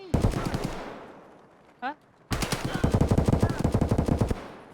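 Automatic gunfire in the video game Escape From Tarkov comes as a loud, rapid burst, a short pause and a brief sound, then a second longer rattling burst of shots close by. A voice briefly murmurs.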